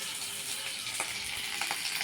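Slices of bitter gourd (karela) frying in a pan, a soft continuous sizzle with a few light stirring scrapes and no voices.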